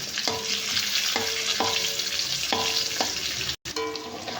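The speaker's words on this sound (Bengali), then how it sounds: "আমার কিশমিশ আর কাজু বাদাম ভাজা হয়ে গেছে" Raisins and cashew nuts frying in a pan, a continuous close sizzle broken by repeated metallic tonal clinks of a utensil against the pan at an uneven rhythm, with one brief dropout near the end.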